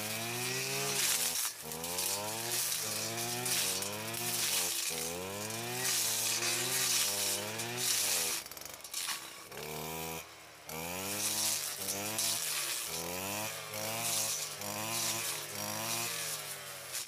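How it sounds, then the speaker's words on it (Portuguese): A brush cutter slices through Mombaça grass, its engine whining in repeated rising and falling surges as the blade bites into the clumps, loud and close, with brief dips between passes and no talking. "Tô cortando com a roçadeira, fica meio espatifado o corte."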